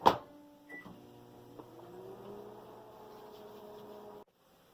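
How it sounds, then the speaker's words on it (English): A steady low electrical hum with a faint tonal whine runs for about four seconds after a brief clatter and click, then cuts off abruptly. "you're going to pop it in the microwave for 1 minute or until it's hot"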